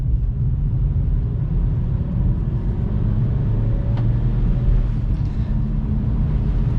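A Vauxhall Corsa speeds down a road, heard from inside as a steady, loud low road-and-engine rumble that runs without a break and without talk.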